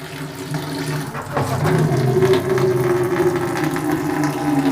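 Steady rush of water draining out of a water geyser during cleaning, a continuous gushing flow with a slight gurgle, fairly close and loud throughout.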